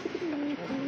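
A male Indian high flyer pigeon coos up close: two short low notes, then a long drawn-out throaty coo, a brief break, and another sustained coo, loud and clear over quiet surroundings.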